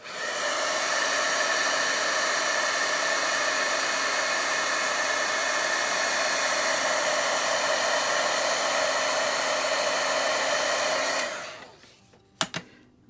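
Steady, loud blowing roar of a heat gun running continuously while heat-embossing a Christmas card, cutting off abruptly near the end, followed by a couple of small clicks and handling knocks.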